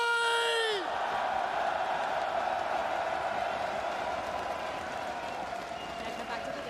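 A large arena crowd in Antwerp roars, cheers and whoops continuously at an esports grand final, a dense distant wall of noise following a short rising electronic tone at the start.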